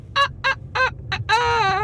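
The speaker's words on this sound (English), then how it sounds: "That chicken sound like it needs some help." A chicken sound effect plays as four short, harmonic squawks followed by a longer drawn-out cluck, loud and close over faint background murmur.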